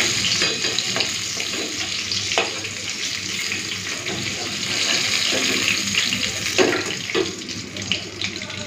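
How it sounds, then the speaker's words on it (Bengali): Hilsa fish frying in hot oil, a steady close sizzle and crackle running throughout with occasional louder pops and stirring scrapes. "এই যে সব কটা ইলিশ মাছ ভেজে নিলাম।"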